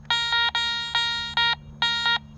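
Short metal detector beeps over buried iron at lower sensitivity sound in a few uneven bursts, bright and buzzy with a faint low hum underneath, close and fairly loud.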